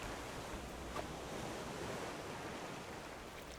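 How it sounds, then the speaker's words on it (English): Big ocean waves surge and crash against a raft at sea in the survival game Raft, a steady loud wash of surf with wind noise running through the whole stretch. "These are some big waves."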